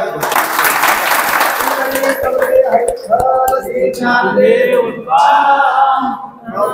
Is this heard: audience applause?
yes